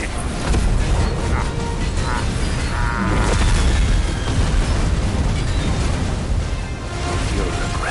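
Mortar fire in a video game, with heavy booming explosions that roll on continuously, loud and dense, under a dramatic shouted voice.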